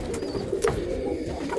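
A black-beak red pigeon coos softly up close, a low throaty rolling call repeated briefly, with faint handling sounds.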